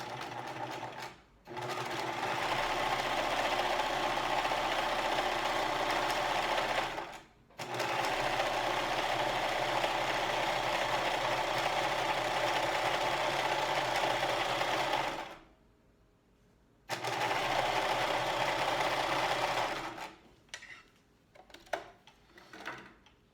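Close by, a sewing machine stitches a 3/8 inch seam in long, steady bursts of rapid whirring, separated by short pauses, and finishes with a few scattered clicks.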